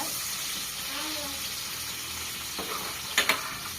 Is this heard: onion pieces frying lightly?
yes